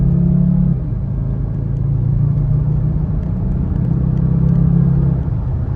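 A 2006 Volvo XC70 turbo engine pulls at half throttle, with a loud, steady low rumble and a droning engine tone that rises slightly and holds from inside the car.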